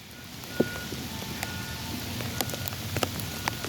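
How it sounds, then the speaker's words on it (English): Heavy rain pours down over a flooding Franklin Park, a steady hiss of water on surfaces with scattered drip and splash clicks, a faint beep and distant traffic rumble beneath, no voices. "The rain is still coming down."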